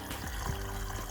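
Rainwater pours steadily from a can onto garden plants, a continuous close watery splash with no talking.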